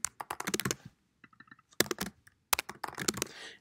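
Typing on a computer keyboard while entering answers for a test: quick bursts of close, crisp keystrokes separated by short pauses, with a softer patch of lighter taps in the middle and no voices.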